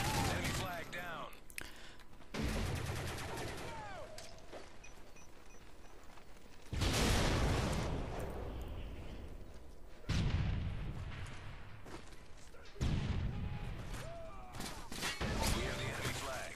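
Bursts of automatic gunfire from a Call of Duty: Modern Warfare 3 multiplayer match, loud and repeated in several heavy volleys with short gaps, mixed with game sound effects and someone talking over it.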